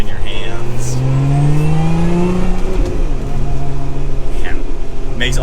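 A 2024 Lotus Emira sports car's engine drones and rises in pitch, revving up then settling back, loud and close from the cabin, with a person talking over it.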